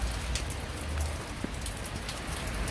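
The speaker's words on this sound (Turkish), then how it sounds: "Gördüğünüz yağmur devam ediyor" Steady rain in Edinburgh pattering on surfaces, an even hiss with scattered drop taps, moderately loud and continuous throughout.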